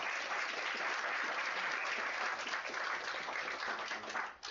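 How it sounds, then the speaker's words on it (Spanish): Audience at a national business financing survey results presentation breaks into sustained, dense applause that holds steady throughout before tapering slightly at the very end. "Si no hubiera preguntas, dejamos un fuerte aplauso y muchas gracias."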